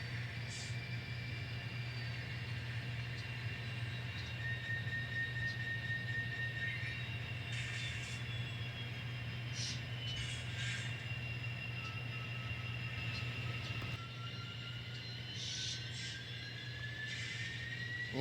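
An N scale model train pulling four loaded box cars rolls along the track with a soft steady rumble and a few faint wheel squeals, heard quietly and at a distance.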